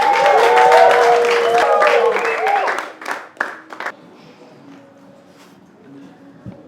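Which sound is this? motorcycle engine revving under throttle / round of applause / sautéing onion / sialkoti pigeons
round of applause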